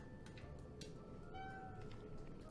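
A kitten named Nova meows softly a few times, faint and fairly close, over a steady low background hum.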